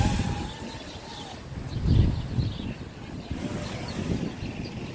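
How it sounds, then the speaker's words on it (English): Wind gusting outdoors around a small FPV quadcopter test flight at dusk, a steady broadband rush with a stronger gust near the middle, buffeting the microphone throughout. "Pretty windy out here."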